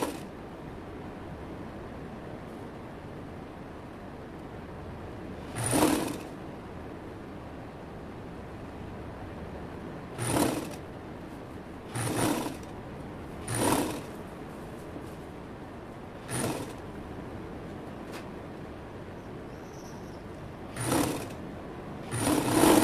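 A sewing machine stitches a narrow, symmetrical draped blouse in short, separate runs of fast whirring, about seven brief bursts over a quiet room hum.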